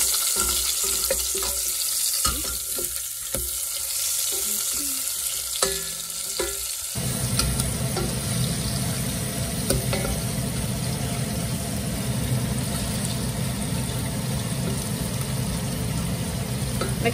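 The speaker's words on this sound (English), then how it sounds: "Fry it a bit." Sichuan hotpot base fries in a pan over a small flame, giving a steady close-up sizzle and crackle with some stirring noises and no talking.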